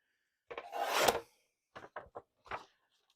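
Scissors cutting paper for a hexagon pop-up craft: one long snipping rasp followed by three short close cuts, with no talking.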